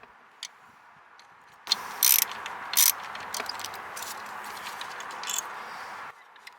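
A ratchet with a swivel adapter is worked on a spark plug of a Mercury Grand Marquis engine. Close, quiet ticking clicks come in short bursts among brief metallic scrapes and knocks.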